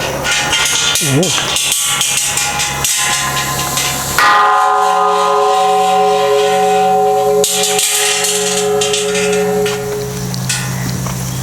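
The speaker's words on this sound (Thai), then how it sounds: "มีระฆังให้เขาด้วย" A large temple bell at Wat Khao Singto in Ratchaburi is struck and rings out with a long, sustained metallic hum that slowly fades, amid background noise and a voice speaking.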